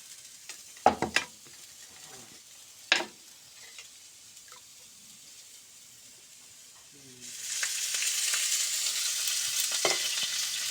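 A little oil heats in a pan before two eggs are fried. A few sharp clicks and knocks sound early on, then a steady broad sizzle rises and holds near the end with no speech.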